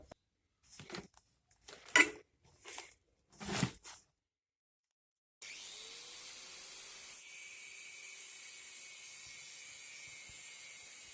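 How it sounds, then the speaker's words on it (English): Angle grinder cutting during installation of an insulating blanket on a hot water cylinder, starting abruptly after a few short scraping bursts and then running as a steady, loud high-pitched whine that shifts slightly partway through. "we'll be using the angle grinder. This little beastie is very loud, but very useful."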